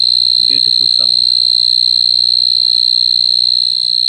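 Cricket insect singing by stridulation outdoors near its mud burrow: a loud, steady, continuous high-pitched trill with a fainter upper band, unbroken throughout, with a brief low rustle early on.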